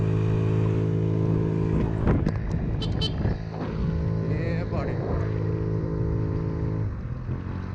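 A Honda Ruckus scooter engine runs wide open climbing a hill, a steady buzzing drone with strong harmonic tones and slight pitch wavering, while someone talks loudly over it.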